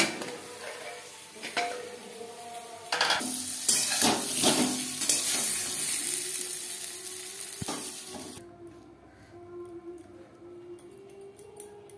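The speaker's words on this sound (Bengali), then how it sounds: "আলু হালকা করে ভেজে নেব।" Potato pieces frying with salt and turmeric in a pan, a loud rushing sizzle with scraping and clanks of a spatula against metal that flares up midway and then settles to a softer hiss, no voices.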